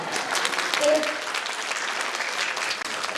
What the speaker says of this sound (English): I'd like to give a special applause.